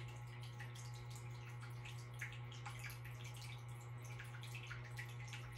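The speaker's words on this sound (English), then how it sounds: "Perhaps you can hear the sound of the water from my water fountain" A small office water fountain trickles and drips softly and steadily, quiet and continuous over a faint low electrical hum.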